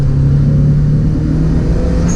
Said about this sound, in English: Now my car is driving.